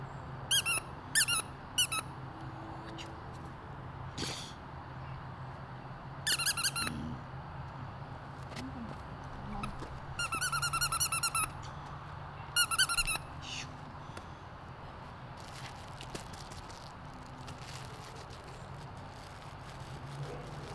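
Several short, high-pitched squeaks from a dog toy come in quick bursts, spaced out over a quiet, low-level room background with no talking.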